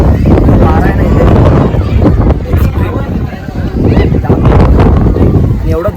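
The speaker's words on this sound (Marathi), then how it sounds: "वारा वारा आहे ना" Strong wind buffets the microphone on a foggy, rainy mountain trek at Lohagad, making a loud, continuous roaring rumble from start to finish.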